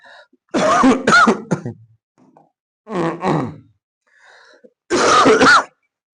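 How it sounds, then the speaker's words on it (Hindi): Three separate bursts of coughing or throat clearing, close and fairly loud, with short quiet gaps between them and no talking. "खांसी आ रही है"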